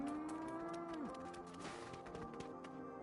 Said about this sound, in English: Wait, was that a cow I just heard?